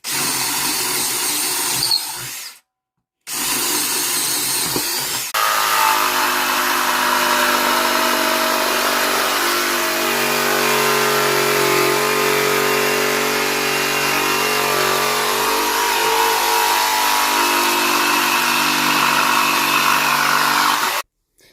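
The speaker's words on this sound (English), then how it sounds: "that'll give you a spot to start your jigsaw cut, like this" A power jigsaw cuts into wood from a starter hole, opening with short bursts and a brief pause, then running in one long steady buzzing cut close by, loud and alone.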